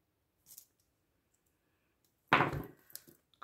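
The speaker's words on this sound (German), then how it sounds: "Ausnahmsweise mal mit der Schere." Scissors cut through an adhesive pad for a craft box, a crisp snipping crunch up close after a soft click, followed by faint rustling of the material.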